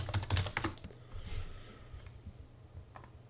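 Quick bursts of close typing on a computer keyboard, a cluster of clicky keystrokes at first, then sparser taps, faint and alone.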